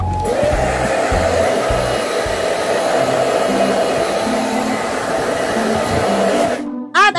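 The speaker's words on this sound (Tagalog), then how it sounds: "kaya ako na rin nagbo-blower sa sarili ko" A handheld hair dryer blows steadily and loudly at close range as someone dries their own freshly colored hair, a continuous airy roar that cuts off abruptly near the end.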